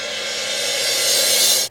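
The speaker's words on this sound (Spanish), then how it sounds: "Este platillo, que hoy en día ya lleva un nombre, se le dice cymbal reverse." A drum-kit cymbal crash played backwards at normal speed from tape, rising as a steady bright hissy wash that builds gradually and cuts off abruptly at its loudest point, with no voices.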